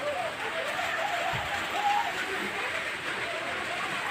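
Rain falls steadily, a soft even hiss through the whole stretch, with a faint voice or two far in the background.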